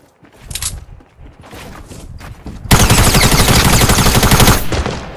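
A minigun fires in a video game: short bursts of gunfire give way to a loud, continuous stream of rapid shots lasting about two seconds, then a brief pause and a little more fire.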